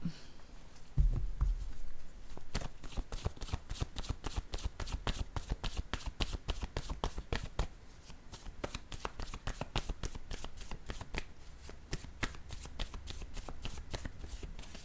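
Word cards being shuffled, a long run of rapid, crisp riffling flutters close by, with a few brief pauses between bursts.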